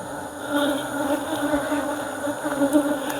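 Honey bees buzzing during a hive inspection in Nigeria, a steady, close, continuous drone of many wings with slight swells in loudness, and no talk.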